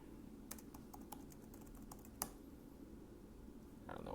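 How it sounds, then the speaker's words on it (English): A computer keyboard is typed on in short bursts of light, close key clicks, with a louder single keystroke partway through, then a quiet stretch. "You're going to type in Charleston right here."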